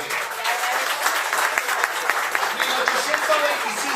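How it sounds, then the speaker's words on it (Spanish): An audience gives a children's teacher a round of applause at a talk on education, a steady wash of many hands clapping at moderate volume that lasts several seconds without a break. "Un aplauso para la profesora de los niños."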